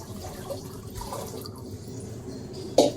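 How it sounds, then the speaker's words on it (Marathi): Water is poured into a pressure cooker with a soft, steady trickling and splashing close by, ending in a brief sharper metallic clink. "इथे मी घेतलं आहे कुकर आणि ह्यामध्ये मी टाकतोय पहिला तर पाणी"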